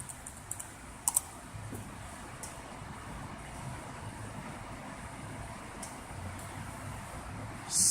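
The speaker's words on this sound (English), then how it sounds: "Type in the password supplied." A MacBook keyboard during a repair-service test boot, with a few light key clicks near the start over a faint steady background hum and a louder knock right at the end.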